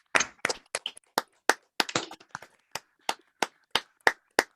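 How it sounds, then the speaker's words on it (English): Scattered hand claps from an online audience on a video call, several people clapping out of sync, each clap sharp and distinct, thinning to a few spaced claps by the end. "just show your appreciation to Jihyun. Clap or however you want."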